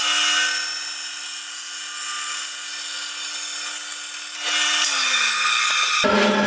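Laguna 14X bandsaw slicing through wood with a standard, non-resaw blade: a loud, steady whining cut runs for about six seconds, its tone dropping slightly near the end before the motor noise shifts abruptly as the cut finishes.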